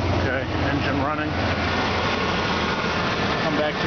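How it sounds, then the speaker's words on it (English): A running car engine idles steadily nearby, a constant low rumble with a faint hiss throughout and no other sounds standing out. "Okay, engine running."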